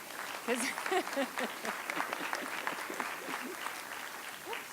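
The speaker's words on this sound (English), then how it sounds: "I think we can give them a round of applause already" Audience applause at an astronomy closing-day gathering, moderately loud and steady for several seconds, with voices talking over the clapping.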